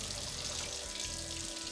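Water pours steadily from a tap into a pot of rice being prepared for hibachi at home, a continuous close splashing rush lasting under two seconds.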